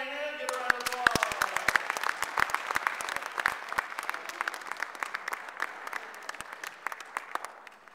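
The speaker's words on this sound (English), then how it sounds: "Give a round of applause." A vaudeville show audience claps for the next act, a magician, with sharp individual claps over a crowd swell, while a voice carries on over the applause.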